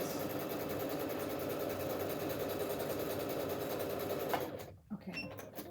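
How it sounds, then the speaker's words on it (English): A sewing machine runs with a steady, rapid mechanical whir for several seconds, then stops abruptly, leaving a few faint clicks. "That's a great thing about a nice sewing machine like this."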